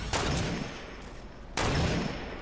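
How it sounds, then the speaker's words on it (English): Gunfire in the Fortnite battle royale video game: two loud broadband bursts, one at the start and another about a second and a half later, each trailing off over a steady background. "I'm shooting."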